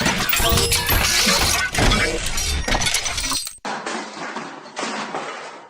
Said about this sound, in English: crashed through the studio wall with his cybernetically augmented paws